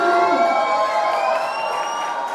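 A college audience at a student event screaming and cheering together, a loud sustained wall of high voices that holds steady and fades only slightly.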